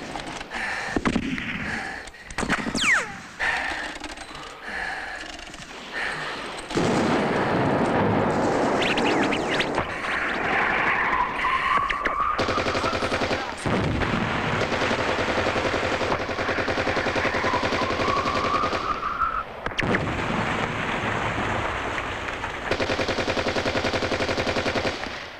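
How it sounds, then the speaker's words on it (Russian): A machine gun fires from a parapet in a war film battle scene with long dense bursts of automatic fire. Loud explosive rumble and a whining sweep sit over the gunfire, which runs nearly continuously and at close range. "Пулемет! На бруствере!"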